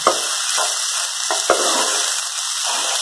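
Tomatoes frying in a pan for a leftover chapati kofta curry, producing a loud, dense, continuous sizzle with a few soft stirring knocks, close up and without speech.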